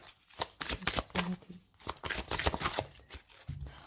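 Oracle cards are shuffled by hand in quick, close, crisp riffling bursts that repeat in an uneven rhythm, with no talking heard.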